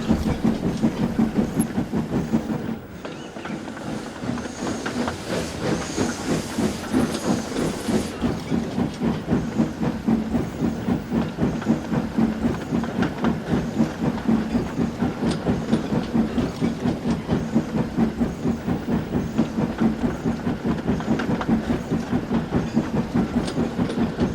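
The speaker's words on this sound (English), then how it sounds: "clearing the snow out of the streets and rails with his plow, as the two little engines followed slowly behind" A snowplow tractor and two small railway engines roll slowly along snowy rails. A steady, rhythmic clickety-clack of wheels over track joints runs the whole time with a soft steam hiss, fairly loud and continuous.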